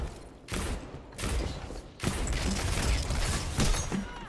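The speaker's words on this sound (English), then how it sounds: "Reloading, reloading." Mechanical clacks of a weapon being reloaded in the Destiny 2 shooter, a few quick, close bursts separated by short pauses, with no voices.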